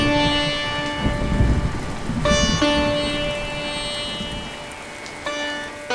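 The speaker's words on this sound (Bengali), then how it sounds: "বাইরে বৃষ্টি পড়ছে, যাস না।" Rain falls steadily outside as a soft, continuous wash, with sustained musical tones ringing over it in an animated scene.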